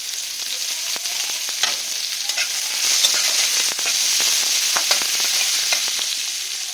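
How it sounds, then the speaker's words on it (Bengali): Chopped onion sizzles steadily in hot oil in a wok, a continuous hiss with intermittent scraping clicks of a spatula stirring, close and alone without talk. "ভাজা হয়ে গেছে, পেঁয়াজ কুচিটা দিয়ে দিলাম।"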